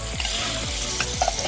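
Pieces of mutton drop into hot onions in a pan and set off a loud, steady sizzle, with stirring scrapes and a few sharp clinks against the pan. The frying fills the short stretch and no one speaks.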